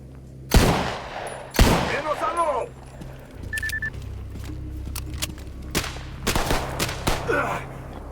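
Scattered gunshots in Stalker Gamma, two loud close blasts followed by sparse fainter shots and a final cluster, over low ambient rumble with small interface beeps.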